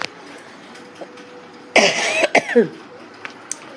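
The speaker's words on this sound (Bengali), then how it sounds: "কাশি হয়ে গেছে আমার" A woman gives a short burst of coughing, a few sharp, close coughs in quick succession after a quiet moment indoors, loud against faint background.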